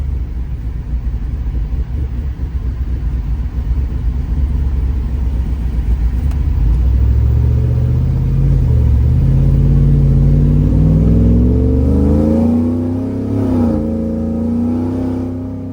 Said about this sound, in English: Sounds a lot like our OBS trucks that we do, the Borla exhaust, but this is the Speed Engineering exhaust.